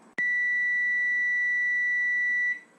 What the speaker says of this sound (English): The timer, it went off.